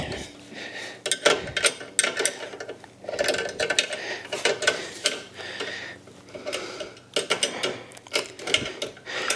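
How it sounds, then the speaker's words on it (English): A 10mm line wrench snugging the brake line fittings on a G-body Monte Carlo SS during an electric brake install, heard as irregular close metallic clicks, taps and ratcheting scrapes, with no talk. "we'll get our 10mm line wrench. Snug the lines up so fluid don't keep running out of here."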